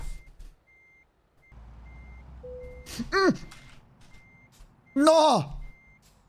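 Truck reversing beeps from a driving video game, a faint evenly spaced beeping running through the clip while a man makes two short vocal exclamations over it.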